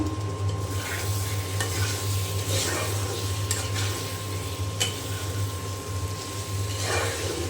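Meat sizzles steadily in hot oil with a fried spiced masala, a constant loud frying hiss with occasional stirring scrapes of a utensil in the pot.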